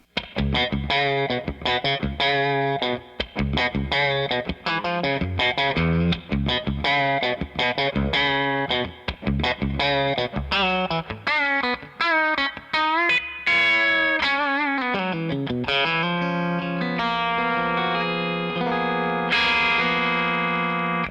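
Electric guitar played through a Jackson Audio compressor pedal, a steady run of clean, evenly squeezed notes and chord stabs. It moves into longer sustained chords near the end, loud and alone.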